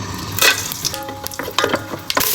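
Whole spices (black pepper, cloves, cardamom, cinnamon, star anise) frying in ghee for mandi, a close crackling sizzle with repeated stirring scrapes and clinks of a spoon against the pot, no talk.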